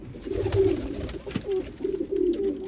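Homing pigeons coo in a cage, their low, soft, rolling calls repeating in overlapping bursts at close range against a faint background hiss.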